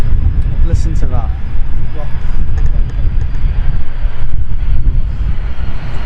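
A HondaJet HA420 business jet comes in to land at Manchester Airport, its steady engine roar rumbling continuously throughout while people talk over it nearby.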